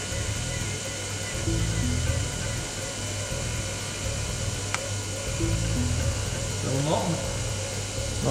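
Electric fuel pump on a Vauxhall Astra GTE 16V running with a steady, close whirring drone that holds throughout, while a voice talks intermittently over it.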